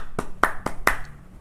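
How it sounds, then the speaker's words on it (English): A few sparse, sharp hand claps, four distinct slaps in about a second, close and fairly quiet with no crowd around them. "Round of applause for that."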